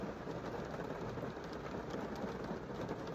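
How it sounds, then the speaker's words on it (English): Steady rain heard from inside a parked car, a soft continuous patter and hiss on the roof and windows, quiet and even throughout, with no voices. "And it's raining."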